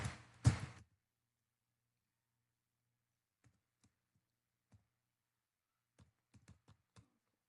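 A few sparse keystrokes on a computer keyboard while entering a name in accounting software, faint isolated clicks following a louder burst of clatter at the start.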